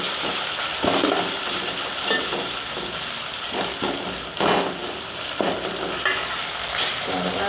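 Onions fry in a pan for Telangana-style chicken gudalu, a steady close sizzle and crackle with occasional stirring scrapes, loud and continuous with no talk.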